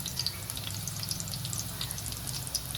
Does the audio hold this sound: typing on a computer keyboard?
no